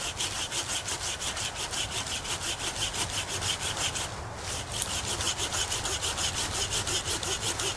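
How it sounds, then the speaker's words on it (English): A hand saw cuts through a hardwood bow stave in steady, rhythmic back-and-forth strokes, close and loud, with a brief pause partway through before sawing resumes. "I don't want to pinch that saw blade."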